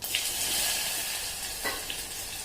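Cumin seeds and crushed garlic sizzle steadily in hot oil, a close, continuous crackling fry with a few sharper pops rising above it.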